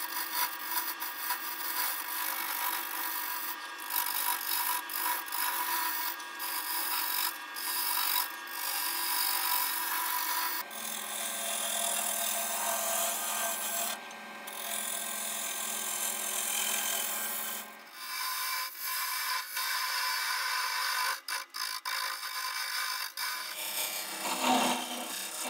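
Wood turning on a lathe as a birdhouse blank is trued up, the gouge taking shavings off with close, continuous scraping and rasping that shifts in tone as the cut changes, with brief pauses between passes.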